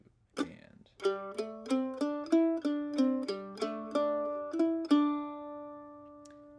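A mandolin plays a phrase of a fiddle tune: a string of about a dozen bright plucked notes in a steady, moderate rhythm, close and clear, ending on a ringing sustained note, with no talking.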